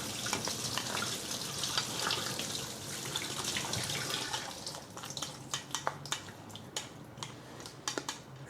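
A kitchen tap runs steadily while rice is rinsed and mixed with water, a soft hissing stream overlaid later by faint clicks and taps of grains and a utensil against the bowl.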